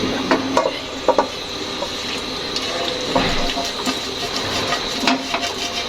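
Masala being stirred into rice in a cooking pot for chicken mandi: a steady wet sizzling and mixing bed with scattered spoon scrapes and clinks against the pot, close and continuous.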